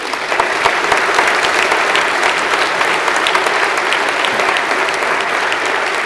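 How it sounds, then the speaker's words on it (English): An audience at a high school senior awards ceremony applauds a group of award recipients, with steady, even clapping from a large crowd that holds at one level throughout. "Round of applause for this group."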